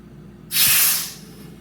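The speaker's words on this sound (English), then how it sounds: "You can hear it kind of filling up with CO2." A single loud burst of CO2 hisses sharply into a beer keg for about half a second, then tapers off into quiet.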